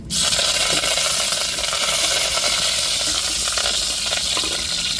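Curry leaves hiss and crackle in hot oil with cinnamon in a pan, a loud, steady sizzle running unbroken from start to finish with faint spattering pops.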